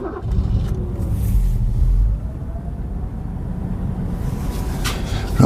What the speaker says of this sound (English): Start her up on LPG.